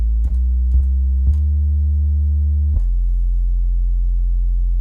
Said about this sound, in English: This is one of the things I really, really love about the FM-4, is the fact that, yes, these are sine waves